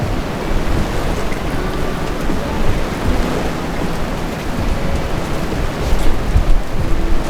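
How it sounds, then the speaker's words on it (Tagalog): Rain falls all around a fishing boat out at sea, a steady dense hiss with low rumbling wash and no voices, holding an even loudness throughout. "Napapalibutan tayo guys ng ulan."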